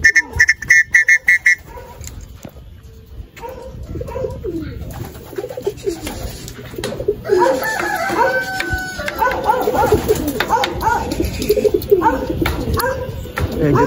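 Racing pigeons back from a 600 km race from Catbalogan to Nueva Ecija, giving soft, throaty coos close by, with wing flaps at the start, a rooster crowing in the background and a voice talking at times.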